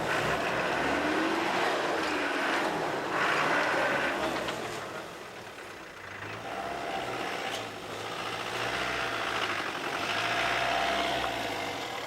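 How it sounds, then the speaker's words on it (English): Camel Trophy convoy vehicles grind through thick undergrowth in Tanzania-Burundi, a loud continuous engine drone that rises and falls as they push forward, with no voices. "The vehicles searched for the path as new undergrowth covered the tracks"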